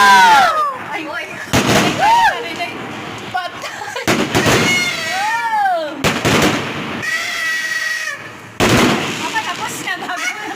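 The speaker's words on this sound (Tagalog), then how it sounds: "More fireworks?" New Year fireworks boom in several loud, separate bursts with crackling tails, while nearby people keep chatting and exclaiming between the blasts.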